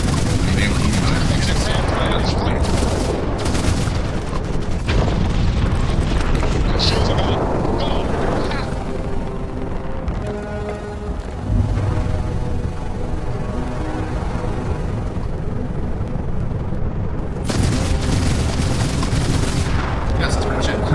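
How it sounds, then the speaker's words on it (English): Spaceship combat in Starfield on very hard difficulty brings dense, booming blasts and rapid weapon fire that rumble continuously, loud and close, with speech running over the action. "Just fly at them, blow up a couple, boost through them"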